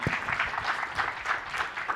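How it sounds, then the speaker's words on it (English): Applause from a conference audience after a presentation on target funding, a steady mid-level patter of many hands lasting throughout, moderately distant and without talk. "So give her a round of applause on that."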